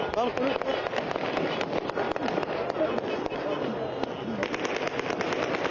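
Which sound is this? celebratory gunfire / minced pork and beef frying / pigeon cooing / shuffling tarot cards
celebratory gunfire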